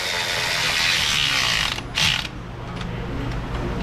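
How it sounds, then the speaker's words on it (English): A wrench ratchets a wing nut down onto a gasket, giving a close, steady run of fine clicking with a brief louder creak partway through. "I'm not wrenching down on it, I'm just providing enough torque to seat this on the gasket."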